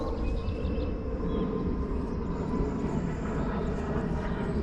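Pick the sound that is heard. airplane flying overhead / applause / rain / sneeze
airplane flying overhead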